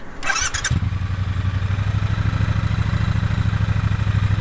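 A Triumph Bonneville T120 parallel twin with a 270-degree crankshaft and stock exhaust starts up, then settles into a loud, close, throbbing idle with an even pulsing beat.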